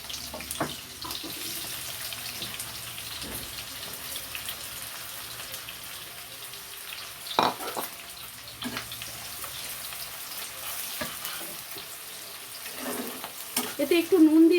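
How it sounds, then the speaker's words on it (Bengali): Onions frying in a mix of oil and ghee, a soft steady sizzle close by with sporadic stirring knocks and scrapes, louder clatter toward the end. "এবার আমি পেঁয়াজটা একটু ভেজে নেব।"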